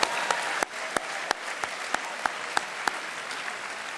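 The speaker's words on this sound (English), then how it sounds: "So let's have a round of applause for all the Canadians here tonight." A graduation ceremony audience gives a round of applause for the Canadians, a steady wash of clapping with a few sharp, distinct claps standing out at a regular pace.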